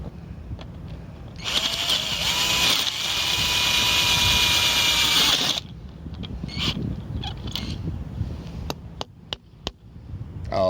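A motor or powered tool cranks up and runs loudly and steadily for about four seconds, then cuts off. Softer handling clicks and knocks follow.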